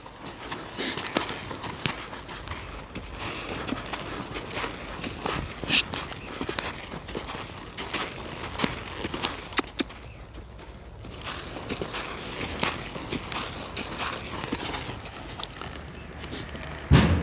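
A working horse's hooves clip-clop in a steady, moderately loud rhythm on the ground of a training arena, with faint creaks and occasional knocks and no talk.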